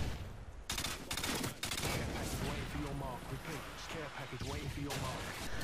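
FAMAS assault rifle fire in a video game: loud, close bursts of rapid shots set against busy game background noise.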